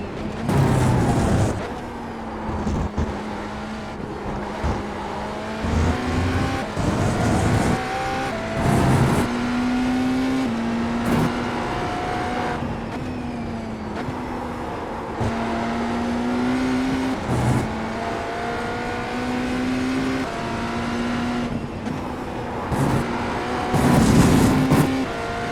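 A race car engine in the iRacing sim racing game drones steadily and loudly throughout, its pitch rising and falling through gear changes and revs as the car circulates on an in lap, with no talking.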